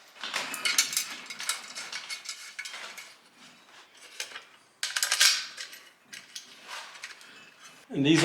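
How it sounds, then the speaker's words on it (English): A socket wrench with a 10mm socket ratchets in quick clicking bursts while tightening heat shield mounting screws during an ARB twin air compressor install on a 2020 Jeep Gladiator, close and intermittent with short pauses. "these will tighten down with the 10mm socket"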